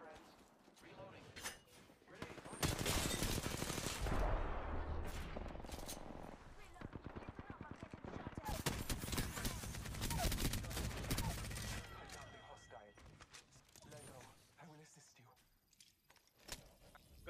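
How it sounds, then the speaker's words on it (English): Heavy bursts of rapid gunfire in the Apex Legends video game, loud volleys that rise, fall and return over several seconds, with in-game voices talking at times. "I'm getting shot at."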